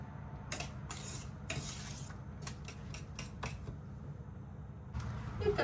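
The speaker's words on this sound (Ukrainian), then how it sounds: "тепер пересипаю сюди в тарілку" Cooked food is scraped and tipped from a pan onto a plate, with a series of quick clinks and scraping bursts over a soft background hum.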